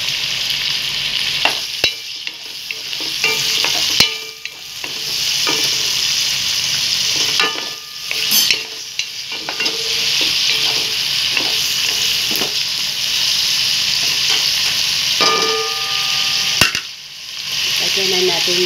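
Tomatoes fry and sizzle steadily in a pan while cooking ginataang tambakul, with spoon scrapes and stirring clatter recurring throughout, close and loud, with no talking.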